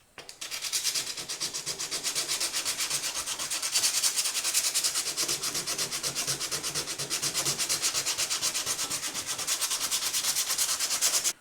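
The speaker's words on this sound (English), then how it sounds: "I've sanded quite a bit of this patch down" Steady rhythmic sanding of a filler patch on a Toyota Coaster bus, a coarse scratchy rub repeating in quick even strokes for several seconds, close and continuous with no talking.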